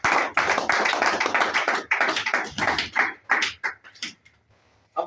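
A church congregation claps and cheers for the Lord in a dense burst of many hands and voices that thins into scattered claps before fading out.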